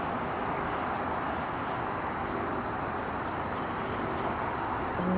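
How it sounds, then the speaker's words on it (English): A Lufthansa Airbus A380 flying overhead on approach to Dulles, a broad continuous jet rumble and roar, fairly steady and moderately loud. "There it is. The Airbus A380."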